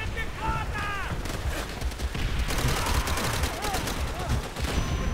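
Dense gunfire rattles in the Call of Duty: World At War video game, loud overlapping bursts of rifle and machine-gun shots in a continuous fusillade, with brief whooshing sweeps mixed through.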